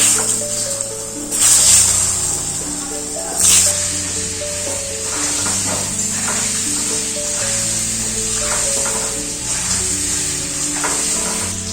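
Spiced potato pieces for a mutton curry fry in hot oil, a steady sizzle with a few louder bursts when they are stirred.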